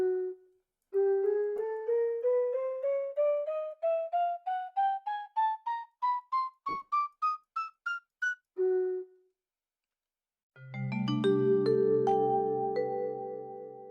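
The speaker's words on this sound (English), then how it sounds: "The clay block will make a flute sound" Minecraft note block set on a clay block, giving a flute voice in a video game: a steady climbing scale of short, clean piped notes, then a lone note and a brighter, sustained layered chord to close.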